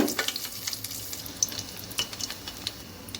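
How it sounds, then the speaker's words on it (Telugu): Whole spices fry in hot oil in a pan on a stove for chicken pulao. Rapid, close, spitting crackles and pops sound over a light sizzle, with faint stirring, and no talk. "స్టవ్ మీద ఆయిల్ పెట్టానండి మసాలా అంత వేసేస్తున్నాను"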